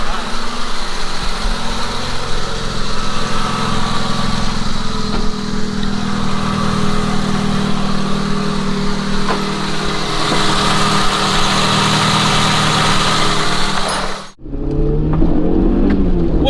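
A PT Cruiser racecar engine idles loud and close at the Auto City Speedway, a steady rumbling drone that suddenly cuts out near the end before a brief rattle and restart.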